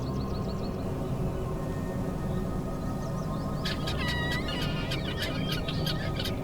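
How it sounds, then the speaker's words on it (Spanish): Helmeted guinea fowl call in the wild Arizona outdoors, a loud, close series of harsh, rapid clucking cackles that bursts out partway through over a steady background hum. "Una gallina de Guinea se separa del grupo"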